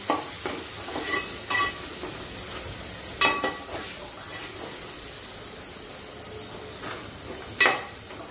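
Red chilli powder, turmeric and coriander powder are stirred into sautéed onion and tomato in a pan for a radish bhaji, giving a soft, constant sizzle under several sharp, close scrapes of a spoon at irregular intervals.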